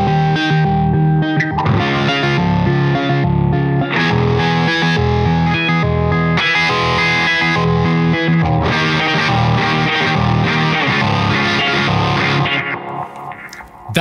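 Electric guitar run through a Jam Pedals Delay Llama Xtreme delay pedal on preset four, giving a dense, distorted, warbling wash of repeating echoes that plays loud and continuous throughout, thinning out only at the very end.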